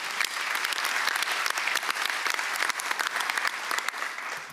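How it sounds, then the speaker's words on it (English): A large audience at a college commencement ceremony gives steady, full applause lasting several seconds, dense clapping that tapers slightly at the end. "One more round of applause, please."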